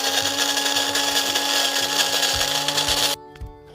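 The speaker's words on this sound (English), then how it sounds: "All right, so we broke those beans down." A coffee grinder loudly whirring through Gevalia French Roast whole beans, a steady dense grinding roar with faint rattling that cuts off abruptly near the end, leaving quiet residual hum.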